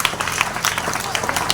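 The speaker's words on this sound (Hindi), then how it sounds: "एक बार जोरदार तालियां बजाएं।" Dense, steady clapping from an audience at a live Hindi stage show, with the crowd's voices mixed in throughout.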